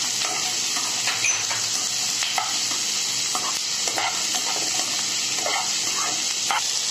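Capsicum and onion are stir-fried in a pan for restaurant-style kadai paneer, with a constant hissing sizzle and repeated scraping stirs close up.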